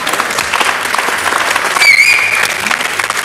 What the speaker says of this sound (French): On applaudit, Mylène.